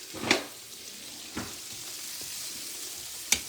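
Onions and peppers for chicken fajitas sizzle gently in a pan, with a few sharp scrapes of stirring breaking through the soft hiss.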